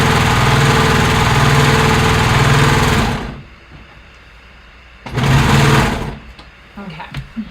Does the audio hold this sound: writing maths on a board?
no